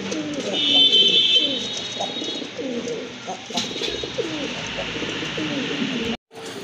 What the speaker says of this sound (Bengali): দেখেন খুবই সুন্দর চমৎকার কোয়ালিটিফুল একটা কবুতর